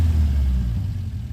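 Car engine revving, with a sound like a ticking valve lifter: a loud, deep rumble that holds steady, then dips and eases slightly partway through, close and with no voices.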